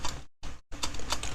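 Someone types on a computer keyboard at a desk, quick light clicks in short bursts separated by brief silent gaps, close by with no talking.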